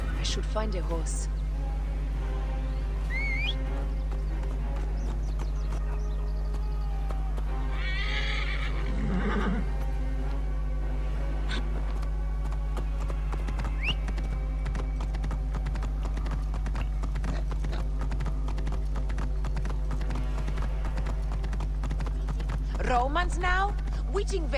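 A horse in the video game Assassin's Creed Origins neighs loudly and its hooves clip-clop in a steady rhythm, over a constant low hum, with someone talking at times.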